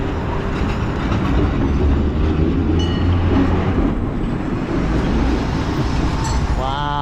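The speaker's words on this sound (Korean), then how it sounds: "뭔가 하고 봤더니만 이게 트램이네." A tram rumbles steadily past near a station in Dalian, China, a continuous heavy rolling noise with faint metallic squeals and a rising whine near the end.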